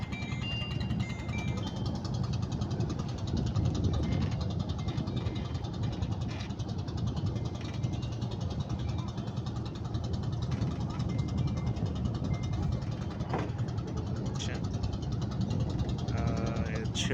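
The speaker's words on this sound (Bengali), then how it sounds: "মানে একটা নৌকাকে টেনে নিয়ে যাচ্ছে, এই জন্য গতি খুব ছোলো।" A boat engine chugs steadily on the Madhumati river as the boat slowly tows another boat, a constant low knocking throb with faint clicks, while someone talks over it throughout.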